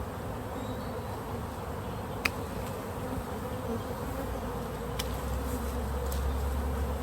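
A dense, steady buzz of a swarm of honey bees fills the air continuously, close and unbroken, with no voices.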